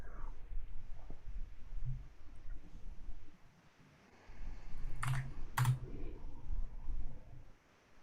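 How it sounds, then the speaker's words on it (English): Keys clatter on a computer keyboard at a home trading desk during a livestream. Quiet, irregular bursts of clicks come close to the microphone, with short pauses between runs of typing. "Is my keyboard very loud?"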